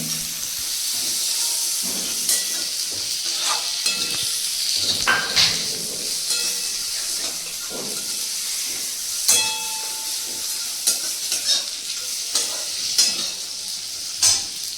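Rice, raisins and spices frying in a pan over a low flame for Basanti pulao, a steady close sizzle with scraping stirs and clinks throughout.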